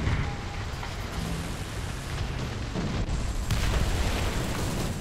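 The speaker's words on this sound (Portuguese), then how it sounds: "a artilharia tá caindo" Artillery shells land in War Thunder near a Panther D tank, a dense rumbling roar of blasts merging into continuous heavy noise, loud and unbroken throughout.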